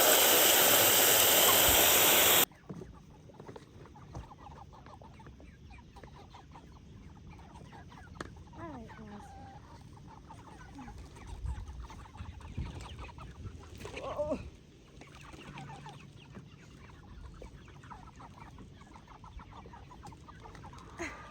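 Chickens cluck and murmur close by, scattered soft calls over quiet outdoor ambience, after a brief burst of loud rushing noise at the start.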